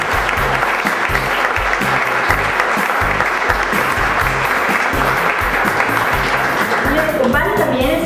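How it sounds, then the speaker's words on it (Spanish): Loud, sustained applause from an award ceremony audience, dense and even throughout with rhythmic clapping, while a voice can be heard faintly beneath it toward the end. "Pido un fuerte aplauso para ellos."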